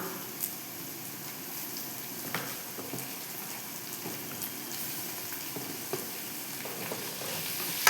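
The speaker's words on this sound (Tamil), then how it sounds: "நல்லா கிளறி விடுங்க கலர் சேஞ்ச் ஆகுது பாருங்கள்" Blood and onions fry in a pan with a continuous soft sizzle and crackle, broken by the light scrapes of stirring. The cooking sounds are close and carry no talk.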